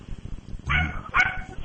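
An African grey Congo parrot imitates a dog's bark, giving two short, close bark-like yelps over a steady background hum.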